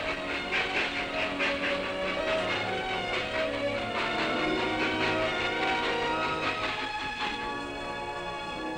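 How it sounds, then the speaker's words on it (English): A train rumbles past near Coalcliff with a dense, steady mechanical roar and rhythmic clatter, loud and sustained throughout, with no voices. "trains ply to and from Coalcliff through a tunnel under the mountain"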